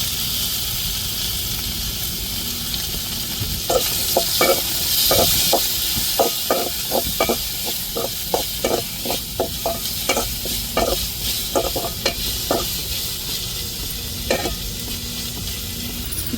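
Tomatoes sizzle in hot oil with curry leaves during tempering for a home-cooked vegetarian fasting meal, a steady frying hiss broken by repeated scraping stir strokes up close.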